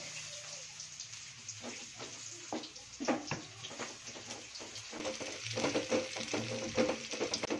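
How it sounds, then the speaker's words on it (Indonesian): Shallots and garlic sauté in a hot pan for rawon. Steady oily sizzling runs throughout, broken by repeated scraping and clattering stirs close by, with no talking. "Kita tumis bawang merah, bawang putih dulu ya"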